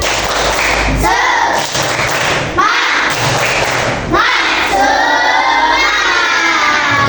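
Schoolchildren in a classroom clapping a rhythmic chant together, loud bursts of group claps and shouted syllables in a patterned beat, with a teacher's voice and children's voices over and between the claps.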